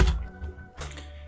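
Fingers tap quickly on a computer keyboard in two short clusters of close, crisp keystrokes with a brief gap between them, nobody speaking.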